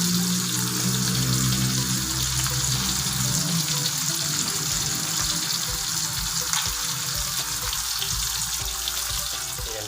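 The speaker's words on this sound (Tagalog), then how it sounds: "So lalagyan na natin ng konting tubig." Water poured into a pan of chicken curry with tomato, a steady close pouring and sizzling wash that runs continuously and loud throughout with no talk.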